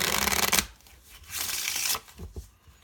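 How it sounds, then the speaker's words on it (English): A quick riffle shuffle of playing cards, a crisp fluttering burst followed by a second riffle and a few soft taps as the deck is squared. "So they go like this and do a riffle shuffle."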